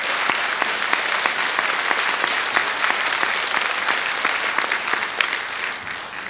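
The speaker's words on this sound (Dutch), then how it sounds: "geef u een gerust een applaus." A studio audience claps in sustained, dense applause, fairly close and even, tapering slightly at the end.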